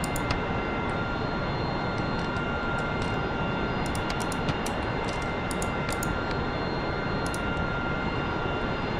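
F-14 Tomcat jet in a night flight within a flight-simulation video game, a steady, loud engine roar that fills the whole stretch without letup, with faint intermittent clicks and chirps on top and no talking.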